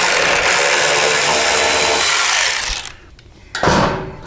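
A power driver whirs loudly and steadily for nearly three seconds as it backs out a Torx 40 bolt on a motorcycle bagger. It then cuts off, followed by a brief hush and one short final burst.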